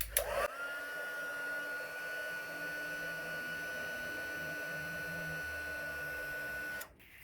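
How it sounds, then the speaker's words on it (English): A heat tool melts Altenew Antique Gold embossing powder for card making, giving a steady, close electric whir that switches on abruptly, holds an even tone for about six seconds, then cuts off. "So I'm going to use the Altenew Antique Gold embossing powder. And I'm just going to heat that up."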